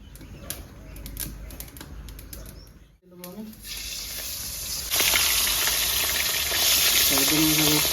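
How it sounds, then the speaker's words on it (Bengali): Pabda fish frying in oil in a kadai, sizzle building after a few tapping clatters and a brief hush, then a loud, steady crackling hiss that swells near the end, with a voice speaking briefly over it. "মাছ ভাজার জন্য আমি কড়াইতে চাপিয়ে দিচ্ছি"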